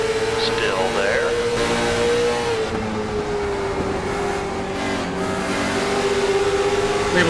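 A late model stock car engine in iRacing at Five Flags Speedway drones steadily at high revs as it pulls off a corner exit, its pitch shifting slightly, with someone talking over it throughout.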